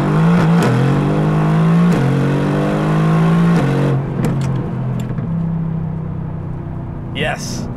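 A Mercedes-AMG GT R's engine revs hard in a rising series of loud, close blips, each climbing and dropping back, before settling into a lower idle-like rumble near the end.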